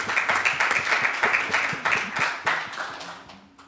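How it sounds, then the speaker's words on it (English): An audience claps in applause after a talk, a dense run of close, sharp hand claps that stays fairly even, then thins and fades toward the end. "Applaud him"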